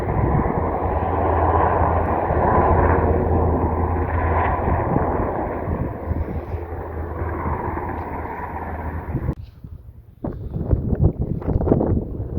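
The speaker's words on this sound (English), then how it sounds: "There's the search helicopter again." A search helicopter over the coast near the Great Orme drones steadily overhead, loud and continuous at first. Wind buffets the sound, and it turns choppier and more broken toward the end.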